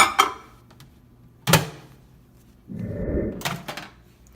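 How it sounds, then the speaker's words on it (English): Two sharp clunks of a microwave door, followed by a steady mechanical hum as it melts butter, with another click near the end. "place the butter in the microwave."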